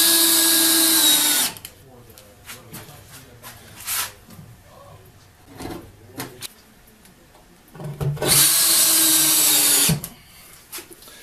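A power screwdriver drives screws into a wooden basement workbench in two loud, sustained whirring bursts at the start and end, with quieter handling noises and clunks between.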